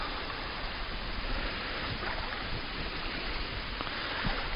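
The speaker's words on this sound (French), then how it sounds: "allons enregistrer les cascades" Rushing water from a waterfall and streams at the Cascade des Quaires, a steady, dense, broadband roar with no breaks, moderately loud and continuous throughout.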